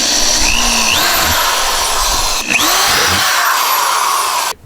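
A power drill bores holes into a kayak hull for a rod holder mount, loud whining motor with rising and falling pitch as it bites, a short break midway, then stopping abruptly near the end.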